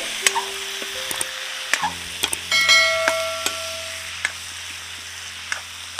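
Chopped bottle gourd (lauki) tipped into a pan of frying spice masala for lauki bharta, bringing a steady sizzle with scattered stirring clicks and a brief louder burst as it lands, no talking.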